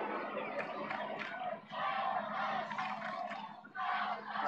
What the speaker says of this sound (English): And the crowd letting them know.